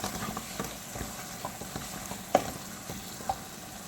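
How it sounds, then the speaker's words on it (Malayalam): Mutton liver pieces stirred through a frying pan for a curry, a low steady sizzle broken by soft scraping strokes and one sharper clack, close and fairly quiet, no speech. "ഇനി ഇതിലേക്ക് ഞാൻ മാനേജ് ചെയ്ത് വെച്ചിരിക്കുന്ന ലിവറിൻ്റെ പീസുകൾ ഇതിലേക്ക് ചേർക്കാം ഇത് നന്നായിട്ട് മിക്സ് ചെയ്യാം"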